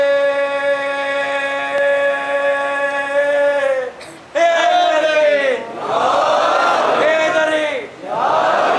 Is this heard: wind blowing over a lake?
no